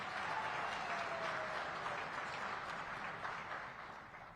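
Steady applause from a large audience at a SADC heads of state summit, sustained and fairly even before tapering off slightly at the end, with no speech over it.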